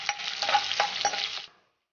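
Curry leaves, garlic and asafoetida frying in a pan of hot oil along with sesame seeds for a brinjal masala, a close, dense crackling sizzle with light stirring clicks that stops abruptly after about a second and a half.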